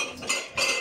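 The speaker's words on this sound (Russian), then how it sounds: "Не бей посуду." Dishes clattering in a home kitchen: two quick bursts of metallic clinking and rattling, close and moderately loud, with no talking.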